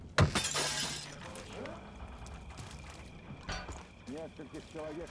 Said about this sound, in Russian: разбил стекло, я не хотел